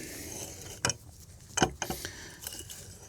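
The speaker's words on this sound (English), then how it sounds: "you just open up your crescent wrench so you get it on the nut, and then you just start turning it clockwise and it'll start raising this beam up" Crescent wrench turning a nut clockwise to raise a deck beam, producing a few sharp metallic clicks and ratcheting scrapes spaced irregularly over about three seconds, close and fairly quiet.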